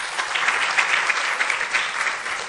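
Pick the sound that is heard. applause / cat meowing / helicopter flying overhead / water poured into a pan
applause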